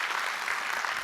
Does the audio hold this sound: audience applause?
yes